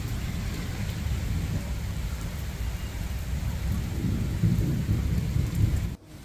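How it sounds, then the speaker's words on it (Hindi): Heavy rain pours steadily around daybreak while deep thunder rumbles underneath, a dense continuous wash that swells slightly near the end before cutting down sharply. "आज खूब ज़्यादा बारिश हो रही है"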